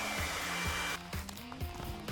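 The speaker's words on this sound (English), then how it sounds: "we are going to use a blow dryer. So this kind of heats the plastic and makes it easier to work with." A blow dryer heats the plastic of a Ted Baker Pink Leda clutch, a close, steady whirring hum that cuts out partway through, leaving faint handling noises.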